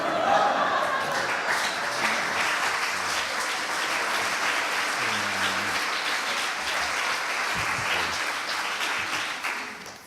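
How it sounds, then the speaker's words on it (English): Steady, full audience applause fills the room at a live poetry show, a dense wash of clapping that holds for about ten seconds with a few voices murmuring underneath. "I like the applause. Applause, it sounds good."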